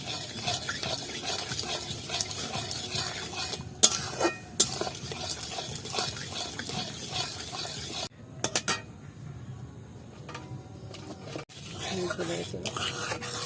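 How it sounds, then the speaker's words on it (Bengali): A spoon stirs papaya juice and sugar in a pan, with quiet scraping and occasional metallic clinks against the pan over a low background hiss. "আর এইভাবে অনবরত কিন্তু নাড়িয়ে নেবো, না হলে এইটা পুড়ে যাবে।"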